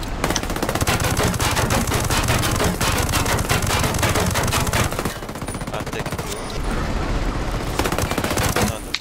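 Sustained automatic gunfire from a Ghost Recon Breakpoint raid, dense rapid bursts that are loud and continuous with short lulls, with players talking faintly beneath the shooting.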